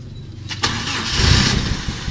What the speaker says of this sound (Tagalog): So, turn on ko lang muna yung aking makina.